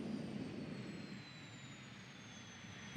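Airplane in the BeamNG driving simulator game gives a steady engine and jet-like drone with a faint, slowly falling whine, moderately loud and unbroken, with no talking.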